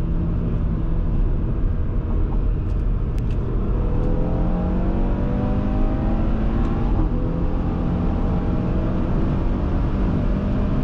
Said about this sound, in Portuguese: O ronco desse carro é espetacular.